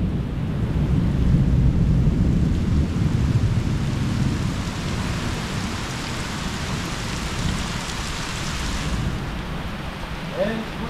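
A downpour in Mexico hisses steadily with low rolling thunder beneath it, loud and enveloping, with occasional drips and splashes standing out near the end.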